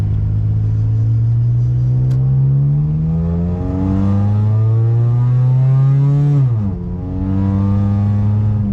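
Honda EM2 widebody car sliding on icy snow, its engine droning loud and steady, the pitch climbing slowly, then a quick drop and recovery as the car slides, heard up close with no talk.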